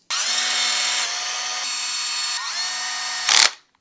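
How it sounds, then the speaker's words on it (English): Power screw gun whirring as it drives new screws into a Traxxas Velineon 3500 brushless motor, a loud close motor whine in two sustained runs with a short burst at the end. "As you guys can hear, this gun does a great job."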